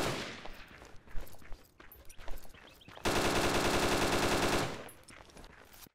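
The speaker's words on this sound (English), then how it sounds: "Keep shooting if you can, guys." Sustained automatic gunfire in a video game: scattered shots early, then a loud, continuous rapid burst for about two seconds before easing off, with no speech over it.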